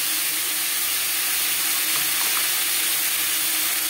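Tomato paste sizzling and frying in a pan with potatoes for a fish curry, a steady, continuous hiss that holds close and loud throughout, with no talk.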